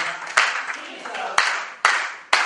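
Clapping from an audience at a women's empowerment seminar, a few sharp claps landing at uneven intervals against a faint background, moderately loud and close, with no one speaking.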